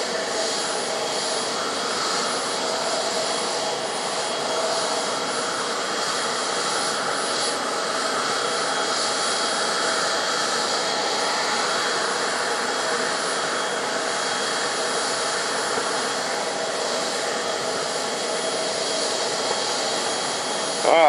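An F-4 jet's engine runs ahead of taxi testing, giving a loud, steady, broadband roar with a high whine that holds unchanged for the full twenty seconds, with no voices.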